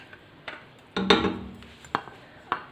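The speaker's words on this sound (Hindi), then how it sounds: "ये मैं इसमें डाल रही हूँ साबुत मसूर" Whole masoor lentils dropped into a pressure cooker, a few short hard clatters and ticks against the metal, with one denser rattling pour near the middle and quiet gaps between.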